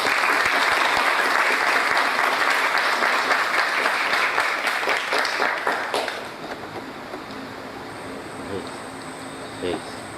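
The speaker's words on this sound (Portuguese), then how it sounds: "Uma salva de palmas." A large audience applauds loudly at a heraldry society's year-opening ceremony, steady dense clapping that fades to a quieter, thinner patter after about six seconds.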